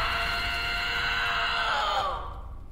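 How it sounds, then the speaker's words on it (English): A woman screams in a long, sustained, strained cry that holds steady for about two seconds before breaking off and fading, loud and close with no other sounds around it. "Whew, that was a good scream."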